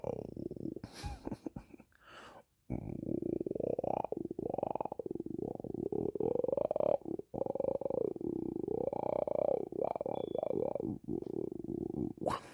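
A voice imitates strange throaty sounds, a continuous guttural rasp with wavering, growl-like tones that rises and dips over about ten seconds after a few short bursts, fairly loud and close.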